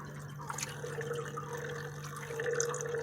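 Coolant dripping and trickling from a leaking radiator on a vintage Shelby Mustang, a faint, steady liquid patter with small splashes over a low background hum.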